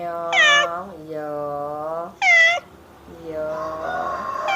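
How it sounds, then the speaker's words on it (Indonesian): A cat recovering from a hit-and-run meows three or four times at close range. The calls are loud and tonal, and one is long and wavering, separated by brief pauses. "Mau meong-meong,"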